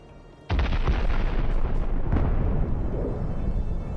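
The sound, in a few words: artillery fire and explosions hitting armored vehicles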